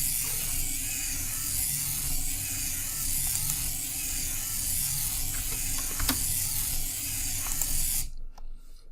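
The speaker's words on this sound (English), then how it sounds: "you can set the gear motor port 1 to 500" Small gear motor on a CM-150 robot kit whirring steadily with a faint mechanical buzz and a few light clicks, then stopping abruptly near the end; no talking.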